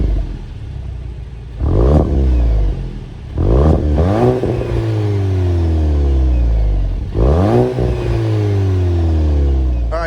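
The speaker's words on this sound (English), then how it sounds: "that was of course the sound of the 2-liter turbocharged 4-cylinder sold by Volkswagen for the GTI" The 2-liter turbocharged four-cylinder of a 2022 Volkswagen MK8 GTI with a 6-speed, blipped in three sharp revs that rise quickly and then fall back slowly toward a steady, loud idle.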